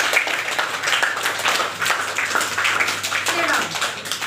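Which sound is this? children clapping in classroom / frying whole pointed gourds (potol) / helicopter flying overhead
children clapping in classroom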